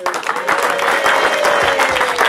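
Audience applause at a speakers' club event, a dense, steady wash of clapping from a live crowd that stays loud and even throughout.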